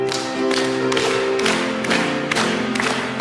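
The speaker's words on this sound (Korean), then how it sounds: "다시 힘차게 박수하면서" A church congregation claps hands vigorously in rhythm during a Korean worship song, with accompanying music and strong periodic beats that repeat steadily at close range.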